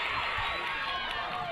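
Lacrosse starters cheer on their team from the sideline during a girls high school playoff game, a continuous wash of bright crowd shouting and cheering heard up close.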